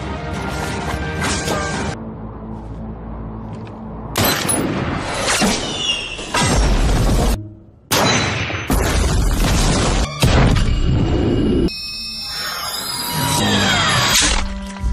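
Bomb blasts in a war film about a sniper battle, a chaotic sequence of heavy booms, crashes and debris impacts in loud bursts separated by short gaps.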